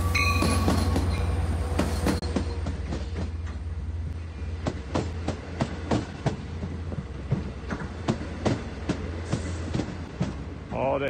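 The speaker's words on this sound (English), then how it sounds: "All right, here comes the train." Long Island Rail Road train 8704, bound for Montauk, rolls into Speonk station with a steady heavy rumble and repeated clickety-clack wheel beats over the rail joints, loud and close throughout.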